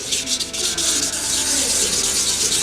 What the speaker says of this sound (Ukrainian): Повністю треба заматувати поверхню шкурочкою 1200.